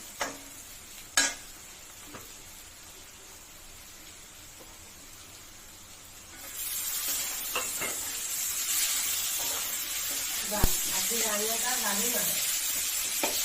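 Curry with salt and turmeric being stirred as it fries in a pan: quiet at first with a couple of sharp knocks, then a steady louder sizzle with scraping stirs, close by.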